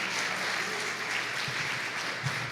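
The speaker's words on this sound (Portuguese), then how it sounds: "Você pode aplaudir o Senhor por isso?" A church congregation applauds, a dense, even wash of clapping that holds steady for a couple of seconds at moderate loudness, with no voices standing out.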